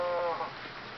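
A short, bleating cow moo from the Minecraft video game sounds loud and close, then quickly fades away.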